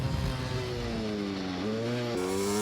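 Husqvarna WR250 two-stroke supermoto revving close by, a raspy buzzing engine note rising and falling through several throttle blips, loud and steady with no talk.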